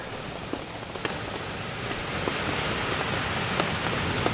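Steady rain falls at a misty, damp wild camp, a dense even hiss with scattered close drops pattering on a nearby surface, no voices.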